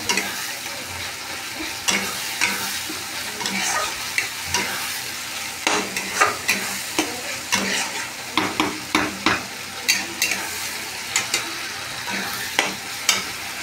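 Tomato paste frying in oil in a pan, a steady sizzle broken by repeated scraping strokes of a spoon as it is stirred, close and clear with no talking.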